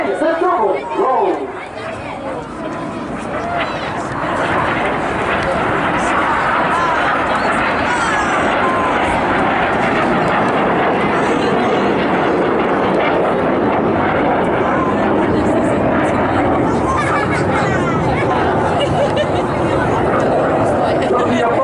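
Red Arrows RAF jets flying a double roll over the sea cliffs at an airshow, a loud, continuous roar of jet engines sustained throughout, with a crowd murmuring underneath.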